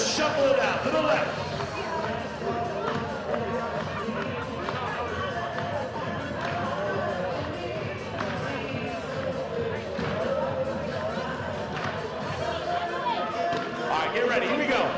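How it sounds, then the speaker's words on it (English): Fans at a Savannah Bananas game in Historic Grayson Stadium keep up loud, rhythmic clapping with general crowd noise, under an amplified voice. "I say keep clapping."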